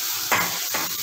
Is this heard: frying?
yes